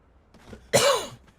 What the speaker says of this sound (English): we've been having a lingering cough all day